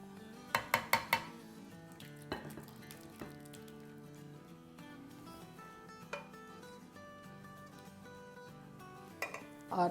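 Metal utensils clink and scrape against a pan in bursts as sev tamatar curry is stirred after lemon juice is added, with a low kitchen hum and faint background sounds between strokes.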